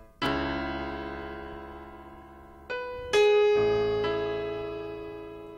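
Piano passage from Tu Eres Rey: a full chord struck and left to ring, followed by a few more single notes and chords that each decay slowly, with no voices.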